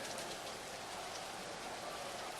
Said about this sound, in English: This is just a downpour.